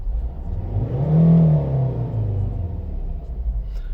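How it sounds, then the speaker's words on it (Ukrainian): A 2011 Volvo V50 2.0 D3 diesel with automatic gearbox and twin exhaust pipes revs up, swelling to a deep throaty roar and then easing back to a rumbling idle, close by with no talking. "Ух, потужний звук. Ззаді дві вихлопні труби і мотор потужний."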